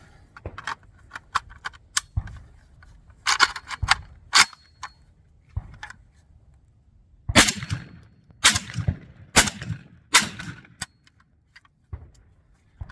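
A JTS M12AK shotgun fires rounds on an outdoor range, sharp loud reports in irregular bursts mixed with clicks and clatter of the action between shots.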